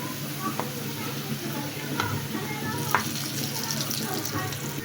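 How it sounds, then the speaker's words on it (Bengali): Pumpkin pieces sizzle in hot oil with a steady crackle, broken by a few sharp clicks and scrapes as pieces are turned one by one, with a voice talking over the frying. "তেলটা আমার গরম হয়ে গিয়েছে, এখন এক এক করে মিষ্টি কুমড়াটাকে মিষ্টি কুমড়াটাকে আমি এখন উল্টিয়ে নিচ্ছি।"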